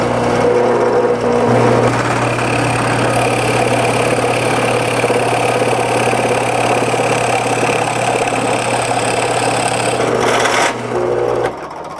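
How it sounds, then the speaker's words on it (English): A drill press whirs steadily at high speed while a freshly sharpened spade bit bores into a block of ash wood with a grinding hum, loud and close, then winds down near the end. "now I've got my newly sharpened spade bit in the drill press"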